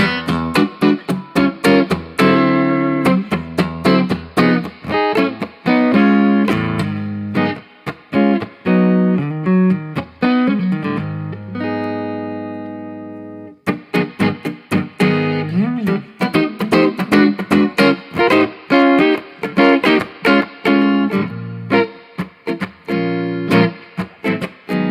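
Clean jazz guitar played on the neck humbucker through a Lab Series L9 amp, with rhythmic chord stabs and short phrases, one sustained ringing chord midway, loud and close with no talking.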